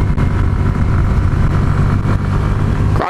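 A Honda Elite 125 scooter engine roars loudly and constantly at full throttle on an uphill climb, with a rough, unbroken drone and wind buffeting close to the rider.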